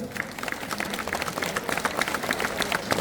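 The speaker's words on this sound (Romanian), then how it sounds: "Un rând de aplauze să vedem dacă suntem toți" A theatre audience gives a round of applause before a show, a thin, dense patter of many clapping hands at moderate distance, steady throughout.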